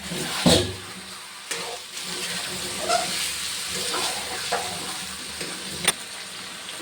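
Marinated chicken sautéing with spices in a pan, a continuous sizzle broken by several sharp stirring scrapes and clinks of a spatula.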